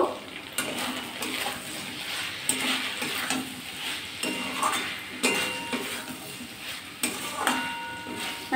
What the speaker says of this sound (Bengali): এবার ঢাকাটা খুলে নেব, নিয়ে আবার নাড়াচাড়া করে নেব।